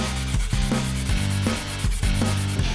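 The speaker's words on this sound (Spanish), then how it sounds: "Ahora le doy una lijadita y chao." Hand sanding on a Renault Clio body part gives a rhythmic series of rough scraping strokes, about one every half second, close and loud with no talk.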